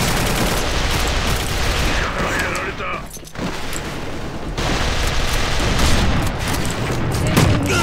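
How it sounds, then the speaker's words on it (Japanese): Grenade blasts and rapid gunfire in the online shooter AVA during a quick match, dense booming and crackling shots filling nearly the whole stretch, briefly thinning to a short gap before resuming loudly. "手榴弾を使うぞ。"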